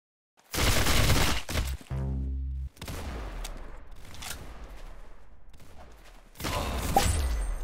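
Video game gunfire in a shooter match: loud bursts of automatic fire and single sharp shots, with a short mechanical rattle between them, spread over several seconds and no talk.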